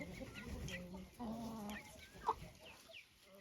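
Chickens clucking softly nearby in a vegetable garden, a few low murmuring clucks and a brief sharper call, against quiet outdoor background.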